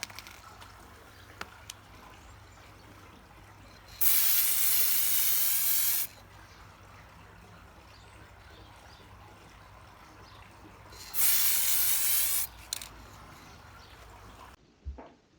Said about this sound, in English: So just going to move on and apply the clear lacquer.